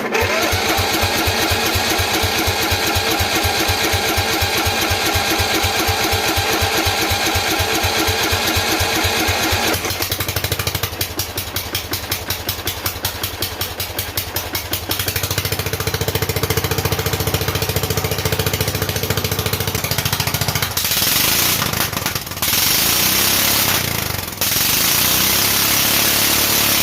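A John Deere ice racer snowmobile engine cranked on full choke, a loud rapid mechanical chugging that shifts pitch and roughness, catching into a running drone with brief breaks near the end.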